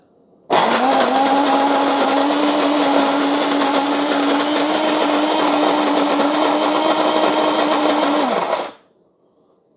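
Mr Coffee Cafe Grind 18 cup automatic burr coffee grinder running alone for about eight seconds, a loud steady motor whine with a constant pitch that cuts off abruptly, then quiet.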